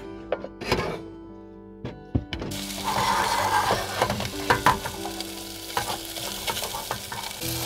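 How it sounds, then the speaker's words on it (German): Sliced Cabanossi sausage sizzles in a pot on a camping stove beside the Weser, with a few sharp knocks and scrapes of stirring before a steady close frying hiss takes over, no voices. "Die Wurst in den Topf."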